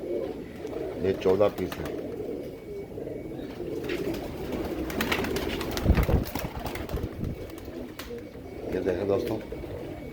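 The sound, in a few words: pigeons cooing in a loft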